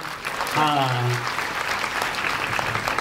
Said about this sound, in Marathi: टाळ्या कमी वाजल्या मग.